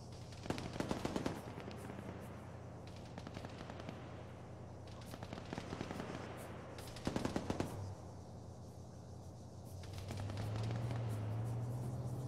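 Machine gun fire crackles in bursts during a combat operation against the Moro Islamic Liberation Front, with dense volleys near the start, around the middle and again later over a steady low drone.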